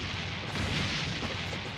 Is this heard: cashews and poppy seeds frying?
no